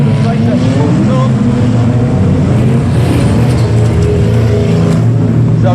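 Racing cars roar past on a track as Roger Wilko leads the field, with loud sustained engine noise and a commentator talking over it.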